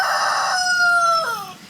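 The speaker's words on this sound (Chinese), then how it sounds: "这是一只公鸡的叫声" A single rooster crows close by, a clear drawn-out call that climbs, holds and then breaks downward at the end, with no other sound competing.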